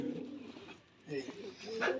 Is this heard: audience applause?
no